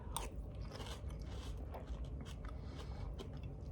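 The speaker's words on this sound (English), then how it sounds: "Let's find out about that wet crunch for the last little detail here." Close, crisp biting and crunching through Cinnamon Toast Crunch apple pie, with steady wet chewing crunches and no talking.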